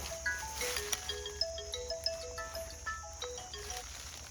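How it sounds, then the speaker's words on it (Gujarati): A phone ringtone in a cartoon comedy scene plays a faint, bright electronic melody of short repeated notes, with no voices over it. "ઝીંગાના ફોન આવ્યા"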